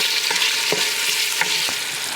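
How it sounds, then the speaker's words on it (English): Bacon crisps in a pan with a steady close sizzle and scattered small pops and crackles, and no voices over it. "for now, we're just crisping up our bacon"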